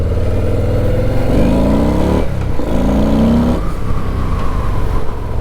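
A 2022 Harley-Davidson Lowrider S motorcycle accelerates nearby, its loud engine climbing in pitch through two rising pulls with a brief dip between them.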